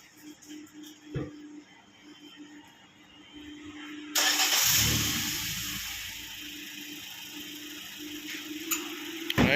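A car engine starts up partway through with a sudden broadband burst of cranking and catching, then settles into a steady idle that runs to the end. Quiet ticking and faint background noise come before it, and no one speaks.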